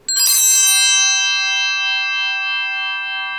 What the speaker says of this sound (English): As soon as Father places his hands over the offerings, the bells get rung once.